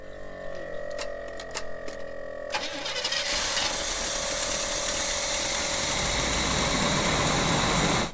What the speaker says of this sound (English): I do need to try to lower the idle on this thing because it's way too high